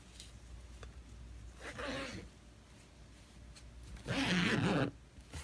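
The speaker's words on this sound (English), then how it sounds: "you can open and close the zipper." Invisible zipper sewn into a garment's yoke and skirt seam, pulled open and closed in two brief raspy runs, the second louder and longer, close up against a quiet background.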